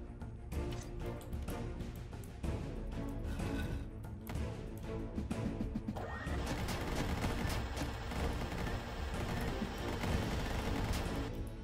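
Rapid, continuous minigun fire in the 2D action game Dungreed, a dense loud stream of shots layered over game music with no pauses for the whole stretch.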